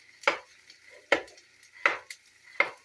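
Thinly, diagonally cut carrots cook in a pan, with four evenly spaced stirring strokes scraping and sizzling, each a crisp burst fading quickly into near silence.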